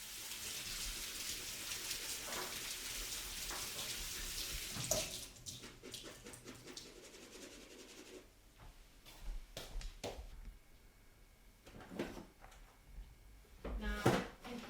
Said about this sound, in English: So I'm just going to give that a rinse.